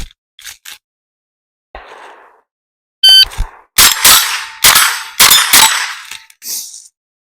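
Rimfire rifle shots ring out in a steel challenge stage, a quick string of loud sharp cracks each followed by a bright metallic clang of steel plates, with short pauses between the hits.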